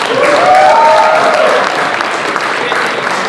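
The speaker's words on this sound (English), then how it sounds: "Can we get a round of applause for Miss Dennis?" Applause for a woman at a press conference in Tampa, Florida: a loud, dense burst of clapping that swells in the first second and a half, then settles into steadier clapping, with faint vocal tones riding over it early on.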